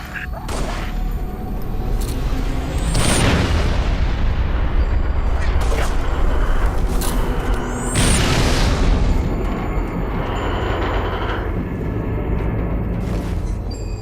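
Heavy artillery barrage explosions in Halo Reach roll in as deep booming blasts, two big waves of impacts with sustained rumble between them, loud and close.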